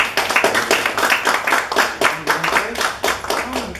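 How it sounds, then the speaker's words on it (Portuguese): Audience applause for a young speaker at an indoor talk, a burst of clapping hands with some crowd voices and faint tonal sounds mixed in, steady and fairly close throughout. "Uma salva de palmas para esse jovem."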